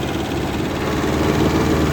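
Kubota B5001 mini tractor engine on a road, a steady loud low rumble with a slight rise in revs, running continuously and close with no talk.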